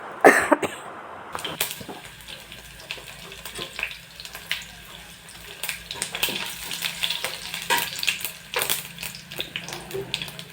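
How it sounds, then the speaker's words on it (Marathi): Sesame seeds pop and crackle sporadically in hot oil with curry leaves, sharp little spits and clicks scattered over a faint sizzle, with a clatter at the start. "आपण याच्यामध्ये हे तीळ घालत आहोत कारण तीळ जे असतात ते पटकन बाहेर उडतात"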